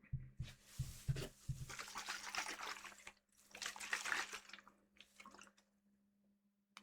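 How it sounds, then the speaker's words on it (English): Fizzy water poured into a cup for a highball cocktail, with a few clinking taps at first, then bursts of gushing, crackling pour and fizz, close and quiet, ending in faint trickles. "Fizzy water."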